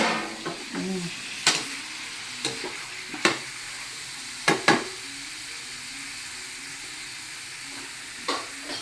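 Food stirred and mixed in a hot pan while cooking, with coconut milk about to go in: steady sizzling hiss under sharp scraping strokes of a utensil against the pan at irregular intervals, close and fairly loud, no talking.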